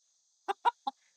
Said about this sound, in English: He's a rescued rooster.